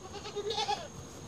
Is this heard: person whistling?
no